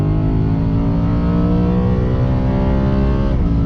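A BMW M3 E92 with a Remus exhaust revs hard against its rev limiter, a loud, sustained, buzzing engine note held close to the microphone, its pitch easing down just at the end.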